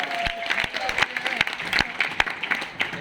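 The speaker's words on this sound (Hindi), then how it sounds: "जोरदार तालियां।" Audience claps at a business plan seminar in a hall, with uneven individual claps standing out sharply over a lively patter of applause.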